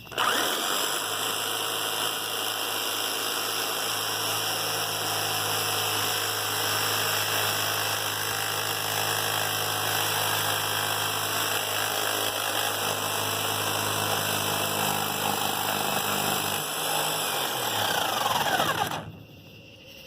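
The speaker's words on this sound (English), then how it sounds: "This is how you start a plunge cut. Just turn your saw backwards, put it in the wood like this." A saw runs backwards into wood to start a plunge cut, a loud, steady motor whine and buzzing grind held for nearly twenty seconds before cutting off abruptly, close up with no talk.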